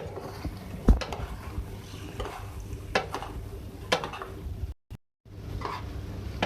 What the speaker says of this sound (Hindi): और ये है लेमन जूस। ठीक है, अब इसको हम करेंगे मिक्स।